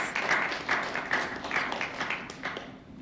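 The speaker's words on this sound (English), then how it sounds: "Give them a round of applause." Applause from the audience at a meeting of Caribbean tourism ministers, a continuous dense patter of many hands clapping at moderate loudness throughout, without any voices on top.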